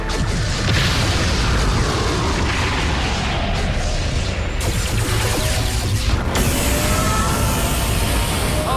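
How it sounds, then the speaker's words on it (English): Spaceship weapons fire and explosions in a sci-fi radio drama: continuous dense, loud booming and crashing blasts with rumbling impacts, forming a chaotic battle soundscape without speech. "They're firing!"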